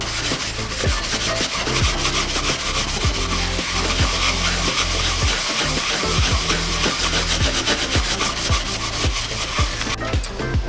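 Wire wool scrubbed steadily back and forth across a camper van's metal floor during stripping and preparation, a continuous loud rasping with a quick repeating stroke rhythm, close up and with no talk.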